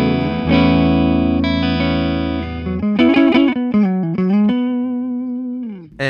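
Clean-toned Epiphone Slash Les Paul Standard electric guitar played on the neck pickup, strummed chords ringing out and sustaining, followed by a run of picked notes and short chord stabs, up close and loud with no talking.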